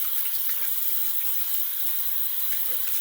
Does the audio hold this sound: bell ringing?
no